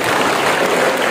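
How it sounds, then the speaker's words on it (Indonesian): Dense applause from an audience at a National Teachers' Day celebration, a steady loud wash of clapping with no pauses, filling the whole moment. "Tepuk tangan untuk kita."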